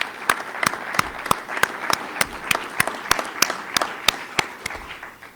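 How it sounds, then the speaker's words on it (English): Sparse audience applause at a Virginia governor's child welfare report event, a thin scattering of distinct claps in a loose, uneven rhythm, moderately near against a quiet room. "that deserves a round of applause."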